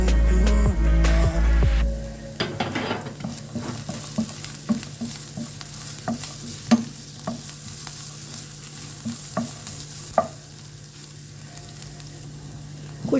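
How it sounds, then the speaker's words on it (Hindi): Chopped ginger and garlic fry in oil for beef chilli, a steady crackling sizzle broken by repeated sharp clinks of a spoon stirring against the pan, with heavy thuds at the start. "और अब डाल देंगे इसमें ये चॉप की हुई अदरक है, ये लहसुन है। इसको करेंगे हल्का सा फ्राई"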